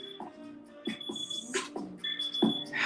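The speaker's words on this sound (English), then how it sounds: "one of my grandkids got their phone in here with an alarm" A phone alarm ringing indoors during a home spin class, repeated electronic beeping tones in short bursts, fairly quiet and heard alone.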